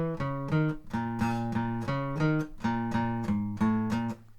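Electric guitar plays a riff from the Deltarune Chapter 2 soundtrack, a bouncy, syncopated run of repeated bass-string notes and chords in steady rhythm, close and clear with no talking.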